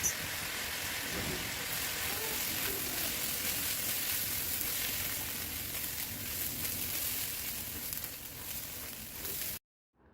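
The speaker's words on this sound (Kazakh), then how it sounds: "қызып тұрған майда күрішімізді 2-3 минут қуырып аламыз" Rice fries in hot oil in a pot while maqluba is being cooked. An even, close sizzle holds for about nine seconds and then cuts to silence just before the end.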